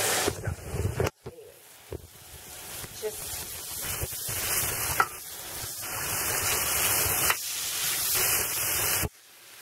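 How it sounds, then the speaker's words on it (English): Beef shank sears in a hot pan with a loud, hissing sizzle that runs through most of the stretch, cut by brief breaks and handling noises, while someone talks over it. "But I like searing my meats before I add them into a soup."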